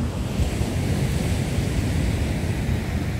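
Ocean waves break on Dardarat Beach in Tagudin, Ilocos Sur, a continuous low roar of surf mixed with gusty wind buffeting the microphone, steady and fairly loud throughout with no voices.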